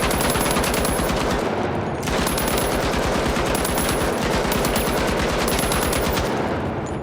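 Loud, rapid automatic fire from an M60 in THE FINALS video game, with sustained bursts and a brief pause near the two-second mark, heard alone without talk.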